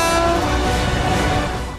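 Inside a moving passenger train in India, a loud, steady rumble of the carriage mixes with a sustained horn blast, continuous throughout and fading slightly at the end.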